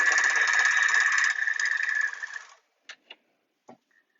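An overlocker sews steadily through fabric with a loud, rapid mechanical whir that slows and stops, then a few separate clicks follow.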